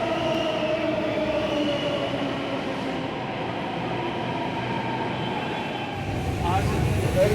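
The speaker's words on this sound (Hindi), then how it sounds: "हमारी मेट्रो अब आ रही है" A metro train rumbles steadily as it pulls in, wheels droning and faintly squealing, with muffled voices underneath and the rumble swelling near the end.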